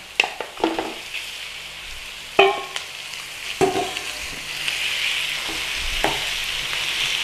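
Lamb mince hits a hot pan for Scottish pie filling, with a steady close sizzle and frying hiss, a few sharp clatters and stirring knocks early on, and no talking.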